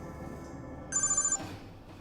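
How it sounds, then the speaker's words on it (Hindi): A telephone rings once, a short, bright electronic trill of about half a second, rising over a quiet room tone before dying away. "धनराज को फोन करते हैं।"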